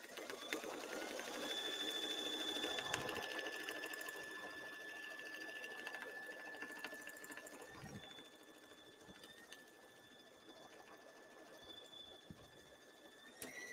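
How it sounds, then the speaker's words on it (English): A Brother Luminaire embroidery machine stitches a tooth fairy pillow, giving a steady mechanical whir with faint motor whine, fairly quiet and close, easing slightly softer midway with no talking. "Now we'll go ahead and stitch. It'll go all the way around."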